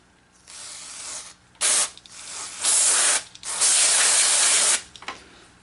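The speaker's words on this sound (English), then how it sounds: "I'm gonna use my contact cleaner." Contact cleaner sprayed onto the capstan shaft of a Sony Betamax 711B deck: several loud, close aerosol hisses of varying length, the longest about two seconds, separated by short pauses.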